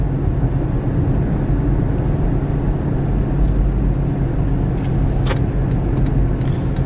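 Steady low road rumble and engine drone from inside a car driving slowly past homes, continuous and close, with a few faint clicks and rattles and no talking.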